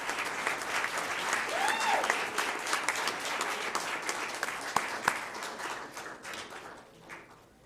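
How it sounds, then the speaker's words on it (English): Audience at a school district board meeting clapping for high school students, a steady patter of many hands close by that gradually thins and trails off toward the end, with a brief muffled voice and a couple of sharp knocks. "One round of applause as they make their way."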